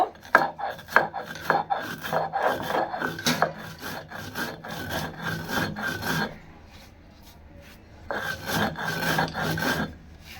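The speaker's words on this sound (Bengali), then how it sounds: "পাঁচফোড়ন আমি টেলে নিয়েছি, এখন এগুলি গুঁড়ো করে নিব।" Dry-roasted panch phoron spices are ground for lemon pickle with a quick run of rhythmic scraping strokes. The sound pauses for about two seconds, then resumes, close and fairly quiet, with no voices.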